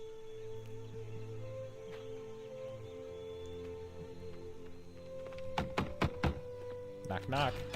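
Knocks on a wooden door in Assassin's Creed III, a short cluster of sharp thuds near the end over a steady game background with speech around it.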